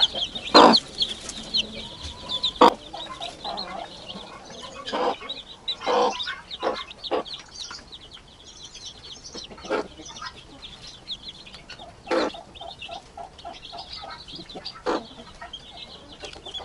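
A domestic hen with her chicks in a poultry enclosure, from a mixed backyard flock, gives repeated soft clucks while sharp high chick peeps break out at irregular intervals, fairly close and with no talk over them.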